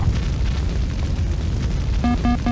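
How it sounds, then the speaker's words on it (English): A missile striking an aircraft in the flight simulator Falcon 4 Allied Force: a sustained loud rumbling explosion roar, followed by repeated beeping warning tones near the end. "He fired a missile and I've been hit."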